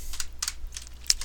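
Computer keyboard typing while writing Python code, a brief run of light, irregular key clicks close to the microphone in a quiet room.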